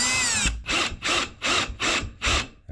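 A power drill drives 1.25 inch drywall screws into a wall, five short whirring bursts in steady rhythm, loud and close, after a brief high whine at the start.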